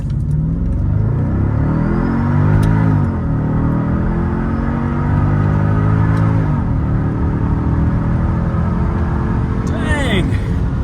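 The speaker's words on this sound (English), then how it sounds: "And I heard the supercharger." A supercharged Mercedes SL55 AMG R230 with its M113 engine pulls hard under acceleration, a loud, close, continuous roar rising through the gears with brief shift dips, a whine on top, and voices talking over it.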